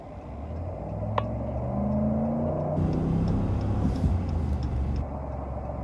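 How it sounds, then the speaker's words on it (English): A 2020 Dodge Ram 1500 Hemi pickup truck's engine rumbles low through its dual exhaust, revving up briefly so the throaty pitch rises, then settling back. "Let you guys hear that a little bit. But the exhaust is not that bad. It does have dual exhaust."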